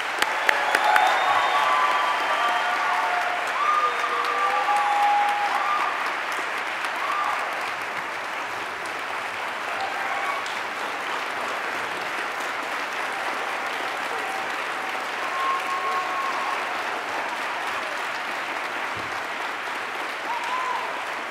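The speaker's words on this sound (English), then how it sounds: "hopefully I can do something to earn that round of applause in this speech" Sustained audience applause at a convocation, a dense wash of clapping that rises quickly and holds steady throughout, with a few cheers and faint voices in the mix.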